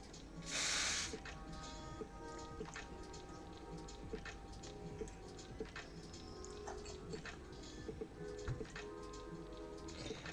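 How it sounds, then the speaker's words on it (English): Isopropyl alcohol sprayed onto a dead Xbox 360 board gives one short, close hiss near the start, followed by faint ticks and handling noises over a low background. "Squirt some IPA on here."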